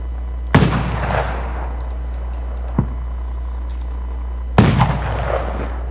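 Simulated fireworks in the FWsim fireworks simulator game: two sharp loud bursts a few seconds apart, each followed by a crackling decaying tail, with a small pop in between over a steady low hum.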